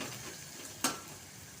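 Finely chopped onion and green chilli fry in a pan, a steady close sizzle with a single sharp tick of stirring or a utensil partway through.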